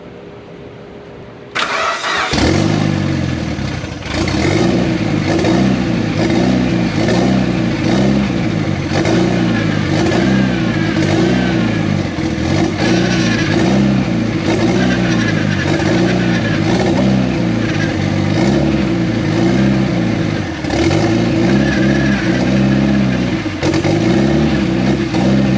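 A long-dormant car engine cranks over, catches and runs after nearly ten years, holding a loud, steady, slightly uneven idle with repeated revs rising and falling, close up and without talk.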